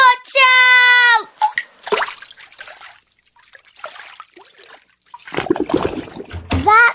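A big drip from a tap gurgling down a drain: a voice imitates the sound with a sung, stepped glug, then loud splashy gurgles come in bursts between quieter stretches.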